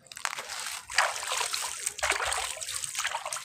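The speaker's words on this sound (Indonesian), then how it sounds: "Singkong yang kita ambil tadi. Nah, kita sirami ya." Water splashing and trickling as it is poured over soaked cassava in two close, bright pours with sloshing in between, fairly quiet and with no talk.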